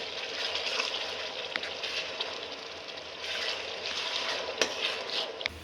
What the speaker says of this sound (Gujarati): ડુંગળીને ગોલ્ડન બ્રાઉનની થાય ત્યાં સુધી ચડવા દે